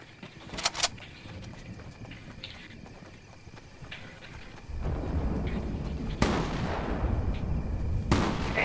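Sniper rifle shots in the Fortnite video game: a sharp, loud crack near the start, then two more heavy reports later over a steady, noisy game background.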